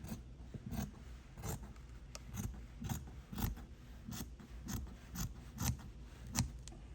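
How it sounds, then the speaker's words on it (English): Scissors trim quilted fabric in a rhythmic series of about a dozen crisp snips, close and fairly quiet, evenly spaced with no talking. "I'm going to cut it, trim it, and leave at least 1/4 of an inch"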